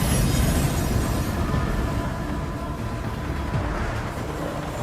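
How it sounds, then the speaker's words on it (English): A colossal train in the video game Enginefall rolls on with a loud, steady low rumble and grinding roar, carrying faint metallic squeals throughout and no talk. "Earth's last survivors live on board colossal trains plowing through what once was."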